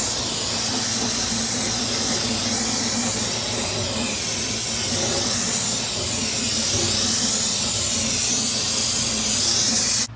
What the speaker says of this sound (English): I like to pretty much hose this all down with brake clean